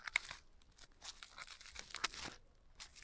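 Taped packaging around a face cream being torn open, close up, with several sharp rips and crinkly rustles spread over a few seconds, fairly quiet and with no talking.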